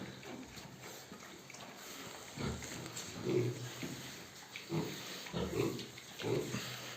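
Pigs grunt and snuffle intermittently while eating barley, with wet chomping and rustling close by over a faint background hiss.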